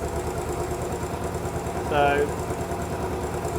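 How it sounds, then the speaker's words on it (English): A Royal Enfield Bullet 500 EFI, fitted with a Pro Racing fuel module and DNA air filter, idles at a steady, even engine note that never rises or falls, with a brief spoken word near the middle. "you can tell already the engine note's constant"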